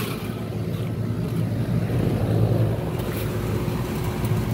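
Air conditioning condenser fans running after the unit kicks on, a steady, loud whooshing roar of moving air with a low rumble, constant throughout and heard alone with no talking.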